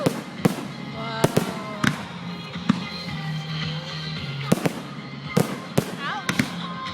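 Fireworks explode in a rapid, irregular series of sharp bangs and crackles over several seconds, loud and close, while people talk and exclaim throughout.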